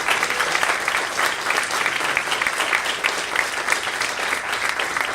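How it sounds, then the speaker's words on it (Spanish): Sustained applause from a church congregation during a Spanish-language service, dense and steady clapping filling the room for several seconds without talk. "Un aplauso al Señor."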